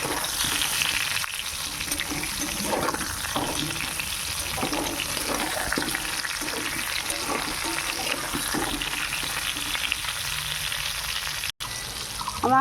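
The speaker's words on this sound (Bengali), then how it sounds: "এখানে আমার পটল কটা ভাজা প্রায় শেষ হয়ে গেছে আর একটু ভাজবো" Pointed gourd (potol) pieces frying in hot oil in a home kitchen, a steady close crackling sizzle running throughout with occasional stirring scrapes and a brief drop near the end.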